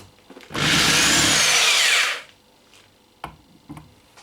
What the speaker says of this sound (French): La perceuse est obligatoire.